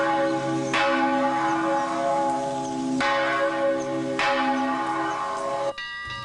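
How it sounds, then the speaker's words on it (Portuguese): Church bells toll in São João del Rei, Minas Gerais, clear ringing strokes at irregular intervals with long sustained tones, a rattle near the end. "todo dia os sinos dobram em São João del Rei, por nascimento, por morte, por tudo."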